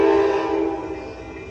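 A loud, steady Amtrak San Joaquin train horn blares close by at Oakland Jack London Square station, its tone holding then slowly easing over a low rumble of the approaching passenger train.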